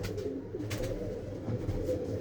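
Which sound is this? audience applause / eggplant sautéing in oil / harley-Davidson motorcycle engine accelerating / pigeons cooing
pigeons cooing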